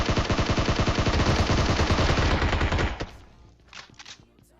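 Rapid automatic gunfire in PUBG rattles continuously for about three seconds, loud and dense, then breaks off into a few scattered distant shots.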